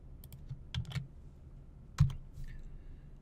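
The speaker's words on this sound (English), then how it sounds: "I'm going to type in that address that the author has here" A web address is typed on a computer keyboard during a lecture: a few soft, close key clicks in small clusters, quiet, with gaps of near silence between them.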